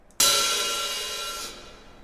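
A single hi-hat drum sample strikes once, followed by a bright reverb tail that lingers for over a second before a quick fade-out cuts it away.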